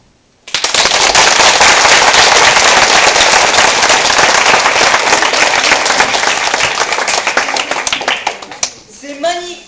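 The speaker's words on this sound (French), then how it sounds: "L'Applaudiblik va frapper ses mains l'une contre l'autre afin de faire le plus de bruit possible" A theatre audience bursts into loud, dense applause, many hands clapping at once in a sustained roar that fades over several seconds before trailing off.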